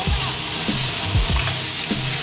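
Carrots being stir-fried for curry in a hot pan: a continuous sizzle with repeated scraping strokes of a utensil, close and loud, and no talking.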